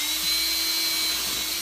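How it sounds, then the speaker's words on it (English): Electric drill boring through a wood project to make a starting hole for a scroll saw blade, a steady high-pitched whine with a constant tone held throughout, close and loud with no pauses. "Then I used a drill and drilled all the way through"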